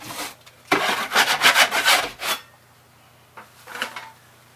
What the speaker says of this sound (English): Always scrape your sides.